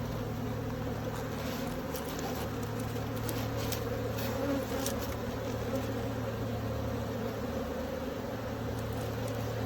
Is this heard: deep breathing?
no